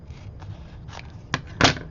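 Scissors cut through a piece of craft foam in a few short, crisp snips close by, with the last snip the loudest.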